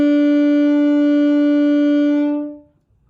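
A saxophone holds a single steady B, fingered with the left index finger, sounding clear and sustained alone for about two and a half seconds before fading away.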